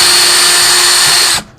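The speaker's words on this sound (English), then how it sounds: "you're just going to pre-drill a small hole in the middle of the dot that we made." A power drill with a 1/8 bit pre-drills a small pilot hole in wood for a cubby bookcase, a loud steady high whine that cuts off abruptly near the end.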